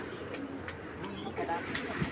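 Soft pigeon cooing blends with a murmur of talk and background noise, quiet and somewhat muffled.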